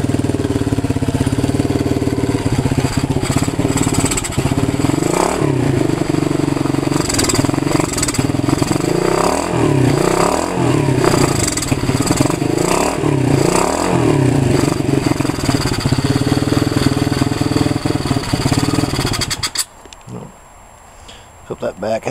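A 110cc pit bike engine cold-starts and idles loudly up close, revving a few times with a rattly putter, then cuts off near the end; a voice speaks.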